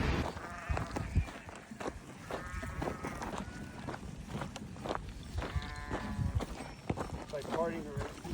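Sheep bleat several times at close range amid rustling and shuffling hooves while backpackers pass through the flock in the Cimarron mountains, with a person talking quietly in between.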